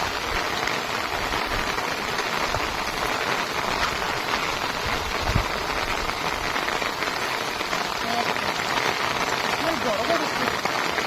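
Steady rain falls on an umbrella and surroundings in the Sundarbans mangrove forest on a wet day, a dense continuous hiss of drops with no break throughout.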